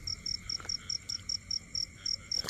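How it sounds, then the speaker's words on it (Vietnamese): A male frog croaks in a field at night, a regular series of short chirping calls repeating about every quarter second, close and clear over faint insect buzz, with no talking. "Ếch ha, nhỏ con ếch đực."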